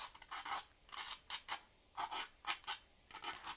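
A tool scraping tree branches into wet paint on a canvas, giving repeated short dry rasping strokes in uneven bursts, close and fairly soft, with no talking.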